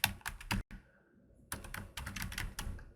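Quick clusters of close keystrokes clatter on a computer keyboard, a burst of typing broken by a brief pause and then a second run of taps.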